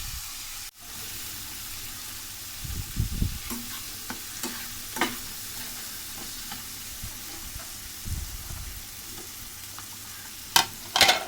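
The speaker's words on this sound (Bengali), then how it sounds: "ভালো করে কষিয়ে নিচ্ছি।" Onion and spice mix cooking in soybean oil with a little water, a low steady sizzle broken by scattered scraping stirs and a few sharper clatters of the spoon against the pan, close by.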